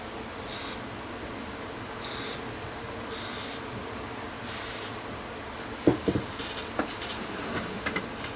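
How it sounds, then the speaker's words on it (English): Four short hissing bursts of contact cleaner sprayed from an aerosol can onto a Heathkit GC1005 digital clock's display, evenly spaced, followed by faint clicks and fiddly handling noises. "Let's just spray a little bit of cleaner down here."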